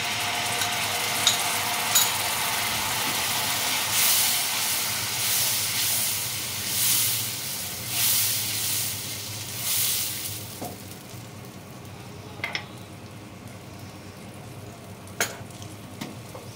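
Loud sizzling and hissing bursts as yogurt hits hot oil with spices and okra, rising in waves before settling to a quieter simmer with a few light clinks.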